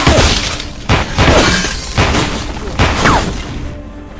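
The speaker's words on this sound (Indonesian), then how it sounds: "terjadilah baku tembak antara driver dan si killer" Gunfight between a driver and a killer in an action film, with loud bursts of shots and crashing impacts in dense overlapping waves under a continuous roar, cutting off abruptly near the end.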